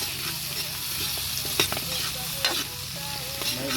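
Potatoes and carrots fry in a pan for a duck egg caldereta, with a steady sizzle and a few scraping stirs of a utensil, close and fairly loud.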